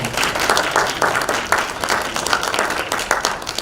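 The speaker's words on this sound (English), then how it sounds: "Let's give our panel a round of applause" An audience claps for a panel at an education funding event, many hands in a full, steady round of applause with distinct individual claps audible throughout, fairly loud and uninterrupted.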